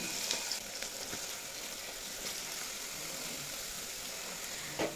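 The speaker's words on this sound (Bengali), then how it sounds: "মটরশুঁটি দিয়ে 1 মিনিট মতো নাড়াচাড়া করে নিয়েছি। এবার এড করে দেব বাঁধাকপি।" Cabbage and peas frying in a wok, a steady close sizzle with a faint stirring clatter near the end, no voices.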